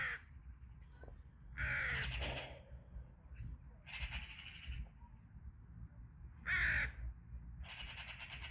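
Crows caw outdoors in short, loud bursts of two or three harsh calls, spaced apart over a quiet background, with a faint voice in between.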